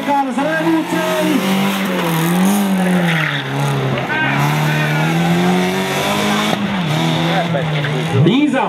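A Škoda Fabia rally car races up a hill climb, its engine revving and climbing in pitch through gear changes, loud and passing close, while an announcer talks over it.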